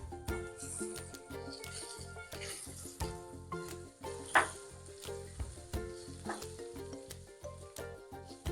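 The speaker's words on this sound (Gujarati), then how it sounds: "ડુંગળી અને ટમેટાને આપણે થોડી વાર સુતરાવા દઈશું" Sliced onions and tomatoes sauté in a pan, a soft, steady sizzle broken by repeated clinks and scrapes of stirring, faint and close.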